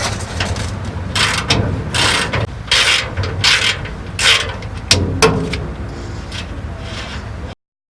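Socket ratchet clicks in repeated bursts while loosening an 11/16 nut on the leaf springs of a 72 Chevy C20 pickup, with loud close-up pawl ratcheting and metallic clanks, no talk.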